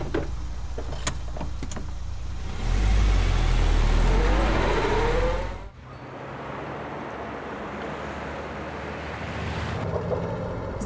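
A car starts moving and drives off, its engine swelling loudly for a few seconds before dropping to a steady cabin hum as it travels on.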